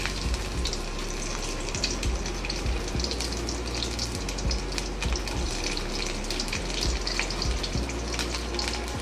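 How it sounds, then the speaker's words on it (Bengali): Garlic goes into hot mustard oil for tempering while cooking a Bengali fish-head curry, giving a steady, close, broadband sizzle and crackle throughout with no talking. "এবারে রসুন ফোড়নটা দিয়ে দিচ্ছি।"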